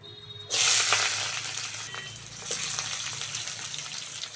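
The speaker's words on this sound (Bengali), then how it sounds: "সয়াবিনের তরকারির জন্য তেলের ওপর পেঁয়াজ দিয়ে দেবো" Chopped onions hit hot oil with a sudden loud sizzle for a soybean curry, then keep frying in a steady hiss close by, with no talking.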